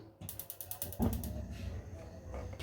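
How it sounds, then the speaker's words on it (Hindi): A gas stove knob clicks through a rapid run of ratcheting igniter ticks, then the burner catches with a soft whoosh and a low steady hiss, close and quiet in a home kitchen. "गैस को करेंगे हम ऑन।"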